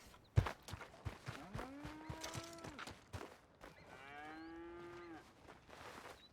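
Two clear, loud moos from a farm cow, separated by a pause, with clattering hooves and barnyard knocks in between.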